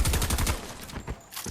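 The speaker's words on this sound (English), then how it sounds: "I don't know if I like this shotgun yet" Shotgun blasts in a fast-paced video game, loud booming shots in quick succession over the first half second, followed by a softer tail of game sounds.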